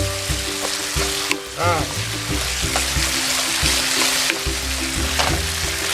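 Chicken and green beans stir-frying in a pan as oyster sauce is added, a continuous loud sizzle with scraping stirs and utensil knocks, a person speaking briefly over it.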